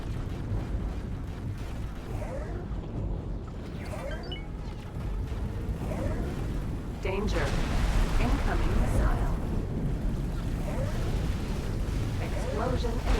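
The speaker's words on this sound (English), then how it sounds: "Explosion imminent." Video game combat with repeated heavy explosions and booming blasts over a constant low rumble, while a voice speaks intermittently over the noise.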